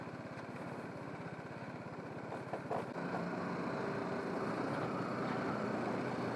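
A BMW 310 GS motorcycle carrying a pillion rider on a forest trail, its engine droning steadily and close throughout, with wind noise and a slight shift in tone midway.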